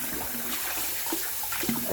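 Cold tap water runs steadily over raw lamb's neck being washed for Jamaican pumpkin soup, a close continuous splashing stream with small spatters and clunks, no talk.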